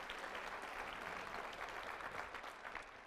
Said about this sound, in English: Give him a round of applause, Paul.